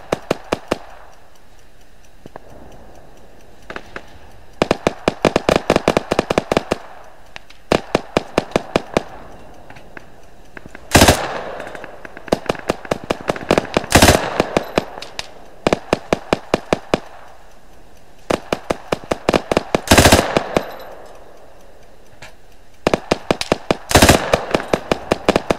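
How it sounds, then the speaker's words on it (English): Bursts of rapid gunfire crackle in irregular volleys in the video game Arma 3 Apex, with occasional single sharp shots standing out between quieter gaps. "Sporadic gunfire."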